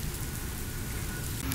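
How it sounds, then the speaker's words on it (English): Steady rain falls outside on a wet July day, a dense continuous hiss with a low rumble underneath and no talking. "It's been raining all day."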